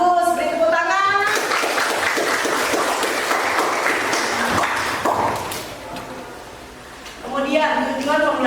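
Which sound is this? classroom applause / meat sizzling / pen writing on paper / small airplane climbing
classroom applause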